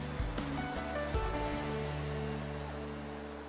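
Sea waves off Sabang wash in as a steady, broad surf roar, moderately loud and continuous, with faint tonal sounds layered above it and no voices.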